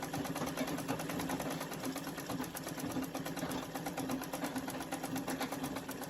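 A sewing machine stitching a strip quilt runs steadily at a quick, even pace, its rapid rhythmic clatter and whir close and continuous throughout.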